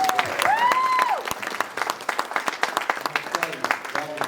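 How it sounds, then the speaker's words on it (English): A crowd at a political meal event in Chowan gives a round of applause, scattered clapping that grows into a lively patter while a voice speaks over the start. "they deserve a round of applause"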